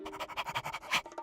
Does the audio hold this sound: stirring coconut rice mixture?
no